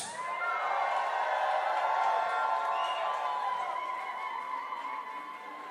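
A large Toronto concert crowd cheers, whoops and applauds for the performer, a steady roaring wall of voices and clapping that swells and slowly eases, loud and full throughout.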